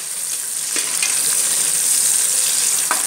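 Four large chopped onions sautéing in hot oil in a pan, a loud, steady hiss and sizzle with occasional stirring scrapes, close and alone without talk.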